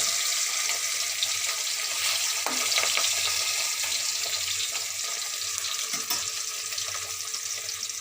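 Pieces of rohu fish fry in oil, a continuous crackling sizzle with occasional stirring clinks, steady and fairly close with no talking.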